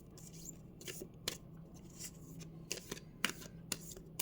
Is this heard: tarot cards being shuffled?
yes